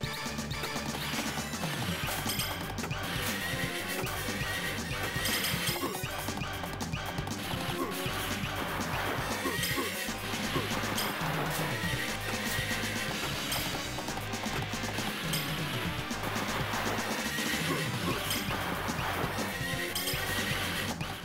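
A horse whinnies in the Sunset Riders video game, mixed into loud, continuous game music, crashes and other sound effects.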